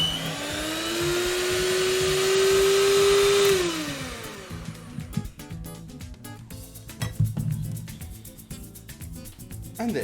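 An electric mixer whirring steadily at a rising pitch as it beats a sticky toffee pudding base, then slowing and winding down into clinks and bumps of the bowl and beaters.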